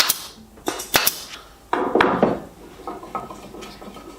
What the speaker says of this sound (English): I put it together with a pin gun now.